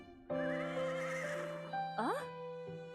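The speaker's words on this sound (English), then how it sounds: "It was somehow similar to the sound of a neighing horse." A horse neighs loudly in the Meiji-era Tokyo setting of the video game Meiji Tokyo Renka, a long whinny followed by a shorter rising cry and a brief final call, heard alone without talk.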